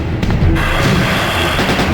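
Gunfire in Resident Evil 2 against William, loud and dense, with several sharp shots packed together over a heavy rumbling background that never lets up.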